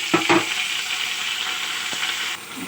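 Spices crackle and sizzle in hot oil in a pan for a Bengali fish curry with fried potatoes, a loud, continuous hiss with a few sharp spits near the start and one brief knock partway through.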